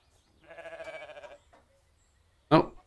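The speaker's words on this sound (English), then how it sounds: "Now the goat's coming inside." A goat bleats once indoors with a wavering, drawn-out cry of about a second, followed by a pause and a short burst of voice at the end.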